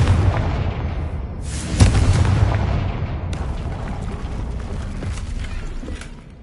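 In the video game Hogwarts Legacy, a Confringo blasting spell sets off a sudden loud explosion that bursts sharply, then rolls into a long rumbling, crackling decay under continuing game ambience.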